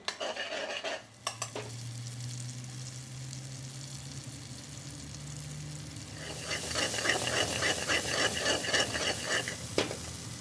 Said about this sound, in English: we're bhunering all the spices and letting those tomatoes sort of dissolve kind of thing